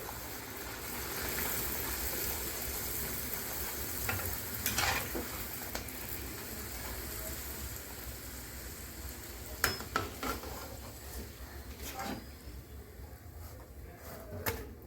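Peas kachuri frying in hot oil in a kadai, a continuous soft sizzle with scattered metal scrapes and clinks of a spatula against the pan, close and moderately quiet, no talking.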